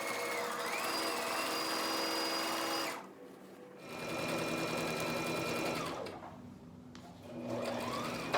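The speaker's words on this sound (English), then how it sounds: "I'm gonna sew it straight across" A sewing machine stitches a straight seam across puffer jacket fabric, running in steady mechanical bursts of about three seconds with short pauses between them, close and loud with no talking.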